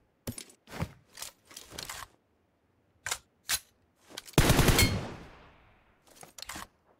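Bursts of gunfire in a PUBG Mobile match: a run of sharp single shots, a denser rapid volley that rings out and decays, and then a few more cracks. The shots sound loud and close.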